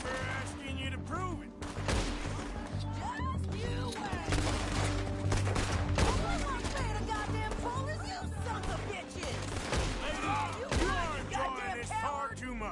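Repeated gunfire in Red Dead Redemption 2, rapid shots and cracks layered with shouting voices and game music, loud and busy throughout.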